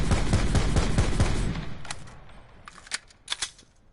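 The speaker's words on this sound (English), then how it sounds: "Let me see what's the difference is with a fast mag." A rapid burst of gunfire in the Blackout video game fades out and is followed by a few sharp mechanical clicks of a quick fast-mag weapon reload.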